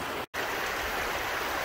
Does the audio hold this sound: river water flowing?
yes